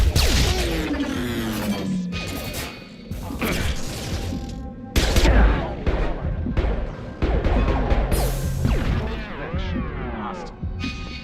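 Gunfire and combat in the sci-fi shooter Mass Effect Andromeda, with sharp impacts, crashes and mechanical clatter in a dense, loud battle mix alongside game music and effects.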